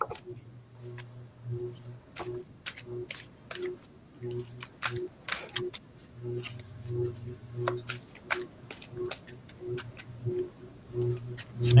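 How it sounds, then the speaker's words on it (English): Cards from a new tarot deck are shuffled in quick, crisp riffling bursts with short pauses between, close and fairly quiet over a low hum, with faint voices occasionally in the background. "I'll make sure I give these a good shuffle of my new deck."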